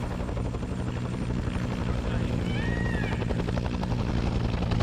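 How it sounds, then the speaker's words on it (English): A helicopter in the video game Arma 3 thrums with a steady, loud rotor beat and engine whine, heard continuously and close. "They moved this helicopter up to here."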